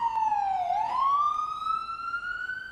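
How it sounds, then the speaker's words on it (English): A New York City police siren wails loudly and up close, its pitch sliding down, then sweeping back up into a long, steady, rising tone with no other sounds around it. "In New York City, the wailing siren is part of the symphony of the streets."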